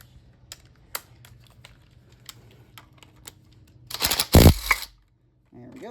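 Half-inch bolts coming off a C10 truck's brake assembly during a rear disc brake conversion: light ticks and clicks of the tool, then a brief, louder metallic rattle and clatter, with no talk.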